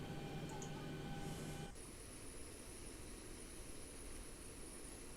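Boeing 737 engines in the X-Plane flight simulator, a faint steady jet hum with whining tones that suddenly drop away, leaving a quieter broadband rumble and a thin high whine.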